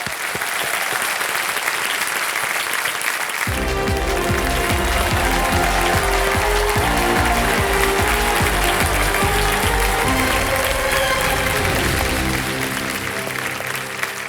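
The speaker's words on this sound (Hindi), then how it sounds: "तालियां बज जाए इनके लिए" A studio audience on the KBC Season 14 game show breaks into loud, sustained applause. It starts abruptly after a few seconds of quieter clapping, holds dense and strong, then eases slightly toward the end.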